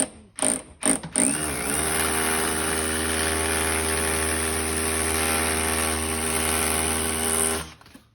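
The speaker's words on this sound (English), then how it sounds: "little drill, it's nice compact" A few short clicks and bursts, then a small electric drill whirs continuously at high speed with a steady motor whine before stopping.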